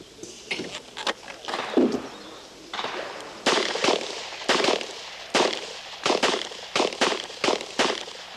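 Sharp rifle shots crack one after another at a junior shooting competition at the Barricades, about a dozen close reports with short irregular gaps and ringing tails, no talk between them.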